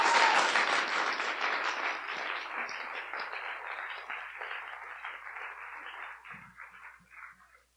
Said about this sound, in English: If we could give them a warm round of applause.